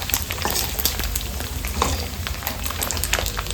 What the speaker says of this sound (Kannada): ಪೋರ್ಕ್ ಮೀಟನ್ನು ಹಾಕೊಳ್ಳೋಣ. ನೀಟಾಗಿ ಒಂದು 5 ನಿಮಿಷ ಫ್ರೈ ಮಾಡ್ಕೊಳ್ಳೋಣ ಹೀಗೇನೆ.